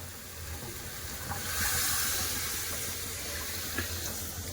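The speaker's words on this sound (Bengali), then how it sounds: "এবার দিয়ে দেবো জল" Water poured into a pan of spiced fish curry with ginger-cumin paste, a steady rushing hiss that swells and holds, with a faint clink near the end.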